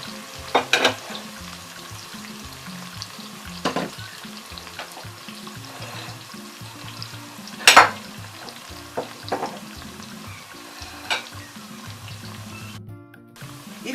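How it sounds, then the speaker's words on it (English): Onions frying in oil for a nkontomire (palava sauce) stew, a steady close sizzle running throughout with occasional sharper clacks and scrapes of a utensil against the pot. "You cook the onions in the oil for about 3 to 5 minutes for the onion to cook."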